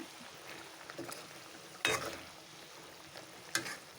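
Pieces of kangla fish dropped one by one into a bubbling spicy curry, two sharp sizzling splashes close by over a low simmering hiss.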